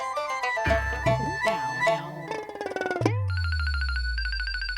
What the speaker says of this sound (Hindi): मैं गुनगुन को फोन करती हूँ, शायद उसे पता हो।